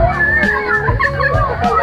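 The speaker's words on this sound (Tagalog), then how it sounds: "Mini pool, enjoy ang mga kids." Kids play in a mini pool at a waterfall in Padre Burgos, Quezon, their shouts and chatter close and lively, with a shrill call rising now and then over the busy, constant noise.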